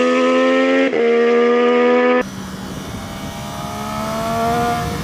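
A Triumph Daytona 675R motorcycle ridden fast on a twisty road, a loud steady engine whine with strong tonal harmonics that gives way to rushing wind noise as the engine note drops and slowly rises again.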